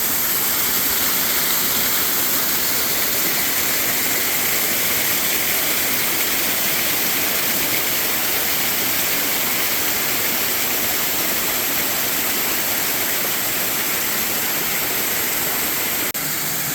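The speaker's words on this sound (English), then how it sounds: "you'll get to see the view from the top of the waterfall" Steady, broad rushing roar of Aqueduct Falls heard from the top of the waterfall, constant and fairly close, with no voices or other sounds breaking through.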